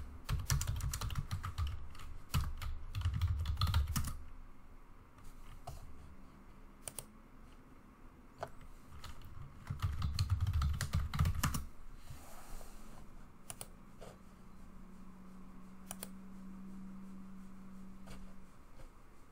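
A username and password are typed on a computer keyboard: dense bursts of close key clicks come in two busy stretches, with sparse single taps and quiet gaps in between.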